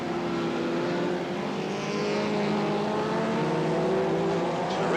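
Stock cars and racing caravans lap a short oval track, a dense continuous engine roar with droning tones that shift as cars pass, loud and unbroken throughout.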